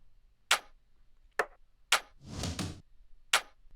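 A sparse drum fill from a 2021 song: sharp, crisp hits spaced irregularly, with a short burst of noisier clap and snare-like strikes in the middle, no voices.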